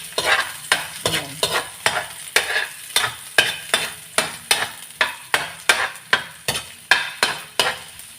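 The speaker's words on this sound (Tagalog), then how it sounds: "Ito pa brown natin yung ano guys, yung bawang" Garlic browning in a pan brings brisk, evenly spaced scrapes of a utensil being stirred against the metal, about two strokes a second, over a soft, continuous sizzle, close and loud.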